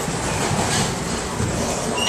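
Onboard a P32 diesel passenger train running from Croton Harmon toward Phillips Manor, with a loud, steady rumble and rolling rail noise filling the cabin throughout, no voices.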